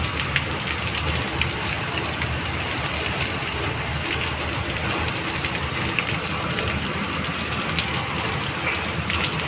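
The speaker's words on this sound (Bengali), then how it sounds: "বৃষ্টিটা দেখো কিরম মুসুলধারে হচ্ছে, পুরো জল জমে রাস্তায়।" Heavy monsoon-style rain pours down in a dense, unbroken roar of water onto a flooded street, steady and loud throughout.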